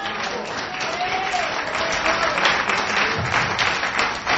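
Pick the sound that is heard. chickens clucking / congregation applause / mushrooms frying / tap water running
congregation applause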